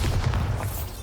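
A Bombarda spell goes off in Hogwarts Legacy as a single deep, booming blast that hits hard at once and then rumbles away over a second.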